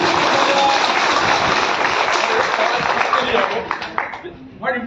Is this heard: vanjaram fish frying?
no